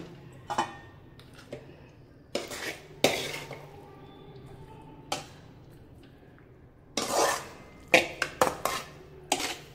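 A spoon spreading a layer of rice evenly in a bun biryani pot: intermittent metallic clinks, taps and scrapes against the pot, with quiet pauses between clusters of strokes.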